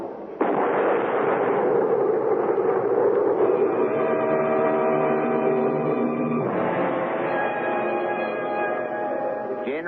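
Firing squad volley in an old radio drama execution scene, a single heavy blast followed by a long rumbling echo, then a second burst of the reverberating roar, loud and alone with no talking.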